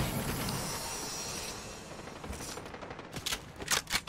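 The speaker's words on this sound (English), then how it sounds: "I heard bullets whiz by me" Gunfire and bullets whizzing past in a Fortnite match: a dense rattle of shots through the opening seconds, then sharper, louder nearby cracks and bursts near the end.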